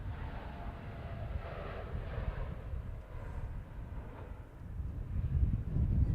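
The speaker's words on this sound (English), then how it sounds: "departing off 3-4 left is the 7879 bound for Santiago de Chile" Boeing 787-9 airliner departing runway 34 Left, heard as a broad, steady roar of jet engines at a distance with a wind-blown rumble that swells slightly toward the end, no voices.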